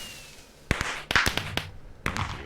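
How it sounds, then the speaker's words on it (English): Fireworks in the Minecraft modpack Project Ozone, a video game: a handful of sharp, crackling bursts arriving in quick clusters, fairly close and moderately loud, with no one talking. "Love the fireworks."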